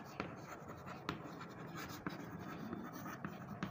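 Someone writes out the answer to a Std 7 maths problem on angles, giving soft, continuous scratchy strokes with a few sharper taps, close and quiet.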